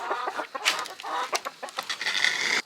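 Chickens in a newly gathered backyard flock clucking close by, a busy overlapping chatter of short clucks and squawks with no talk.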